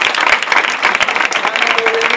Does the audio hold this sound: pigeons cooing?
no